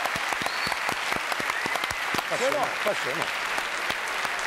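A television studio audience breaks into sustained applause, dense rapid clapping from many hands throughout, while a voice speaks over it in the middle.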